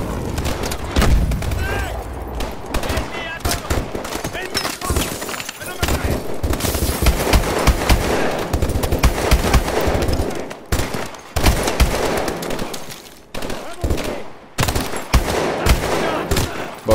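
Dense video-game gunfire from Call of Duty Advanced Warfare: rapid machine-gun bursts and heavy booms fill the scene loudly and keep going, with shouted in-game voices mixed into the combat.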